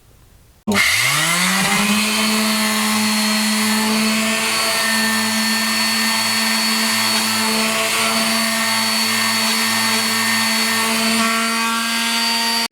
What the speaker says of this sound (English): Now what we're going to do is we're just going to sand it smooth